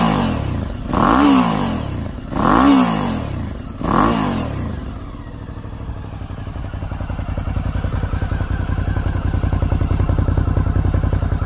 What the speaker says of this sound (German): Und da führen wir mal mit dem schicken Aero den Soundcheck durch.